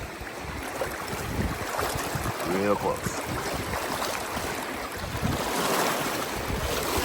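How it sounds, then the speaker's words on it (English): Steady broadband rush of a flooded Arkansas creek fills the scene, with someone speaking briefly over it partway through. "I can get across this creek."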